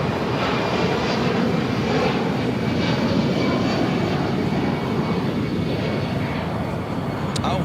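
A passenger airplane takes off at Los Angeles International Airport, producing a steady, loud broadband jet roar that holds constant for several seconds.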